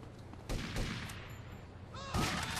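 Shotgun blasts in the video game GTA Vice City Stories on PSP, two heavy booming shots over a dense, noisy game soundtrack, loud and close.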